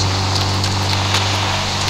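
Steady rain and storm noise at night in the Indian Bike Driving 3D video game, a constant hiss with a low droning hum underneath, heard alone with no talk.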